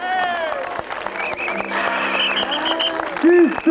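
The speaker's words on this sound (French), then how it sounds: "Et on l'applaudit." Spectators applaud at the 1992 Arette hill climb in France, with scattered clapping running steadily beneath an excited commentator's voice and the tonal drone of a passing competition car or motorcycle.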